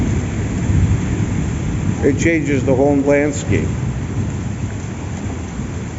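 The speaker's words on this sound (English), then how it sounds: "The fact that it's still thundering and booming tells me this isn't letting up anytime soon." A heavy Christmas Eve rainstorm in Athens, Greece, with a dense, steady roar of rain and low thunder rumbling underneath, while someone speaks briefly over the downpour.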